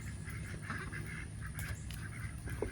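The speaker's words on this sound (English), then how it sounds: "Nope, ducks are running from it too." Several ducks quack and honk in short bursts over a steady background hum, moderately close, with no talking.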